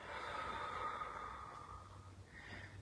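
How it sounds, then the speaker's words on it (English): A slow, deep breath drawn in through the nose during a guided meditation warm-up, heard as one long soft airy inhalation close by, followed by a quieter exhale, with no talking. "Let's do some deep breathing before we get started."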